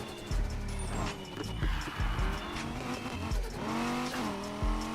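Car skidding under e-brake in Need for Speed Heat, a revving engine rising and falling with tire squeal and gear shifts, loud and continuous without talk.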